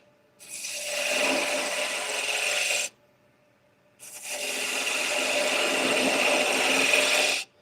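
A bowl gouge cuts wood spinning on a lathe in two long, loud, continuous passes of hissing, scraping shavings, split by a short pause.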